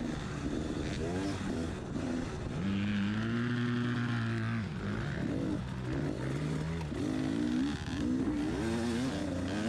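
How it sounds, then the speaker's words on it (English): A dirt bike engine revs hard and bounces off its rev limiter during a hare scramble race, a loud, close, stuttering buzz that rises and falls continuously. "After Nathan's rev limiter special"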